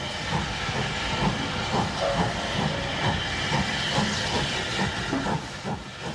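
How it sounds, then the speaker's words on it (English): Steam locomotive Mervale shunting a works train into a station platform on a heritage railway, heard as a steady loud hiss of steam with soft rhythmic chuffs and rail rumble throughout. "Mervale shunts a works train into the platform."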